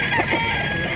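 A sweater crossed with golden boy breed rooster makes a short, moderately loud call in an outdoor farm setting, heard alone with no talking.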